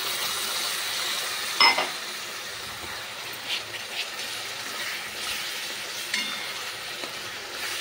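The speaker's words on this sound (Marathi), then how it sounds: "आता 1-2 मिनिटं मी छान परतून घेते टोमॅटो टाकून" Chopped tomatoes sauté for chole in a pan with ginger-garlic paste, giving a steady soft sizzle and a few light clinks of the utensil.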